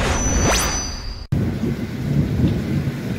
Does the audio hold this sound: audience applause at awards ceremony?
no